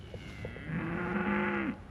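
Cattle mooing at close range on a farm, a long, loud, steady low call with a rising tone that holds for about a second, preceded by a few softer sounds.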